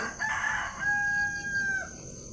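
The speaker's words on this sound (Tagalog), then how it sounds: "So, daming manok." A rooster crows once, a long drawn-out call nearby, with soft clucking of chickens in the background.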